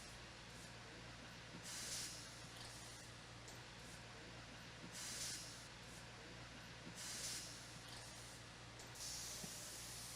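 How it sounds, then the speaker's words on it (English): Pneumatic tire-changing tools powered by an air compressor dismount a race car tire in a pit area. There is a faint constant hiss with several short bursts of sharper air spray, and no talk over it. "You can hear everything is through their air compressor."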